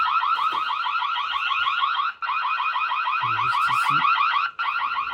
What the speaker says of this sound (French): l'alarme automatique de la caméra va se mettre en route.